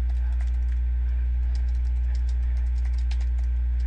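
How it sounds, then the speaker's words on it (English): Quick, light clicks of fingers typing a Twitter message on a computer keyboard, a steady run of soft keystrokes over a constant low electrical hum, with no talking. "I can just type"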